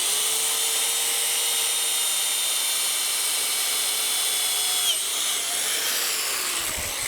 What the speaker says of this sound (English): I'm gonna pre-drill these first.